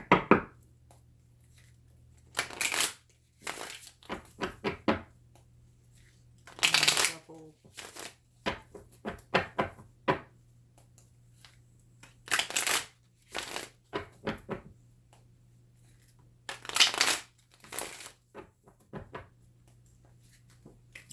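Tarot cards are shuffled in repeated quick riffling bursts with pauses between, close up, while a person talks quietly in the gaps.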